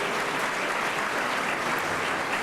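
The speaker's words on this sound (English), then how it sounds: "I think that's worth another big round of applause from this audience." An audience at a Diwali celebration applauds, a dense, even wash of many hands clapping at once, loud and sustained throughout with no talk over it.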